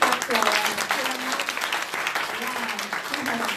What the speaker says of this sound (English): give a good hand clap to our